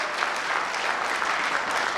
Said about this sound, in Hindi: मैं चाहूंगा दमदार तालियों सबके लिए